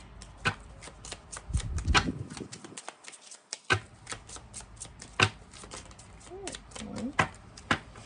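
Tarot cards are drawn and handled close up, with a series of crisp slaps, flicks and riffling shuffles at an uneven pace and a short quiet gap partway through.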